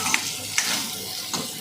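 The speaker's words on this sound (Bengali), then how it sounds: "এই এবার দিয়ে দেবো ডিম, দিয়ে দেবো পেঁপে। এগুলো খুব ভালো করে ভেজে নেবে।" Egg and papaya frying in a pan, a steady hiss of sizzling oil broken by three sharp scrapes of a spatula stirring them, close and alone.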